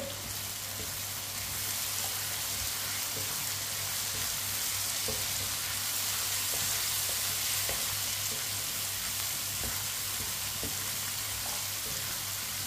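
Lauki (bottle gourd) sabzi with garlic, green chili and chopped tomato fries in a pan, a loud continuous sizzle holding steady throughout with faint stirring taps beneath it.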